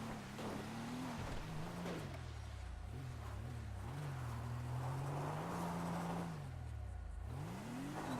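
A car engine in the GTA V video game revs while driving through mud. It is a fairly quiet, continuous drone whose pitch rises and falls as the throttle changes, with no voices.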